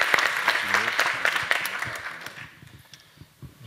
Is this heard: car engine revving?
no